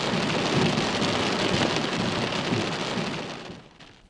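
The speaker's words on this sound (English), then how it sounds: "These pictures of the rainfall are from the wilaya of Nizwa." Rainfall in the wilaya of Nizwa, a dense steady patter and hiss of rain on surfaces with a low rumble underneath, holding level before tapering off at the end.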